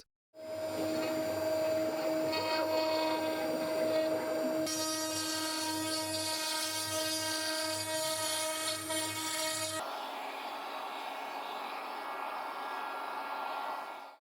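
A CNC router with a 6mm bit whines and grinds continuously as it carves wood, with steady pitched tones shifting as the cut changes, loud and uninterrupted.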